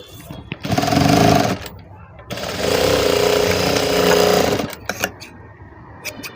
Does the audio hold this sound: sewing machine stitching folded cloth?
yes